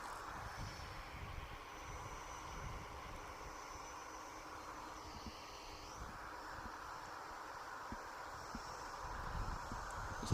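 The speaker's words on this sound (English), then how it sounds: "This EasyJet's off to Barcelona." An EasyJet airliner departing Manchester Airport for Barcelona at dawn: a steady, moderate jet rumble heard from a distance, with a faint whine that rises and falls midway and no talk.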